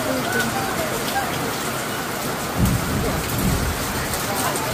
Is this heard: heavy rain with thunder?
yes